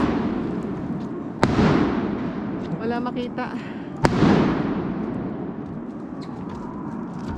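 Two sharp fireworks bangs a few seconds apart at Fenqihu Old Street, Taiwan, each followed by a crackling rumble, with a person talking between them.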